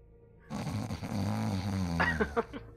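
A man snores in the video game Alan Wake, a single drawn-out, rumbling snore close up and loud, ending with a couple of snorting gurgles.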